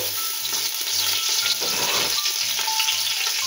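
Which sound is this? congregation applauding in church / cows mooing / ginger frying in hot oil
ginger frying in hot oil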